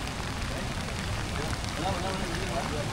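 Monsoon rain falls steadily outdoors, a dense, even hiss of drops on surfaces that holds at a moderate level without pause.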